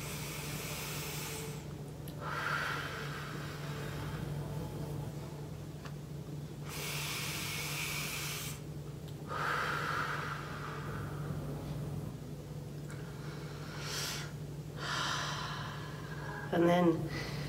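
Slow, deep breaths during a meditation practice, long airy inhales and exhales alternating every couple of seconds over a low steady hum, close and fairly soft.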